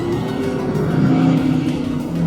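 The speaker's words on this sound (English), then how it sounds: "watching the cars go by" Cars driving past in Radiator Springs at Disney California Adventure, a steady broad engine rumble with a tire-squeal edge running continuously and fairly loud throughout.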